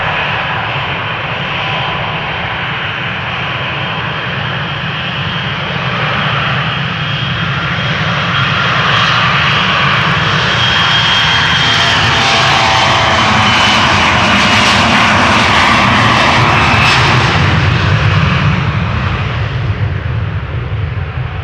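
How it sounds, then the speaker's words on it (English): An Embraer 175 jet taking off from Amsterdam Schiphol for Birmingham, its engine roar building from a steady rumble to a loud, rasping peak and then easing slightly, heard alone without speech. "First up, this Embraer 175 going to Birmingham, flight 1425."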